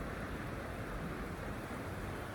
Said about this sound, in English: Do you hear the water roaring?